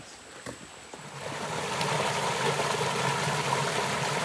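A creek flows steadily where people are cooling off during gemstone hunting in North Carolina, a broad rushing wash of water that grows fuller after a few faint knocks at the start.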